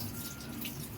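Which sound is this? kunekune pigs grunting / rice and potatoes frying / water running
water running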